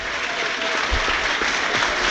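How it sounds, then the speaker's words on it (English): Crowd applause at an FA Cup football match between Blackpool and Nottingham Forest, a steady wash of clapping from one side of the stadium, sustained and fairly loud throughout. "that applause is encouraging from our left-hand side"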